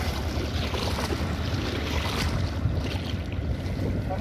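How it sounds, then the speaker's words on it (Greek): A rescue boat moves through floodwater during a flood rescue in Crete, giving a steady, loud churn of water and engine rumble with wind buffeting the microphone throughout. "Με τη βάρκα τους σαρώνουν τις γειτονιές και αναζητούν εγκλωβισμένους."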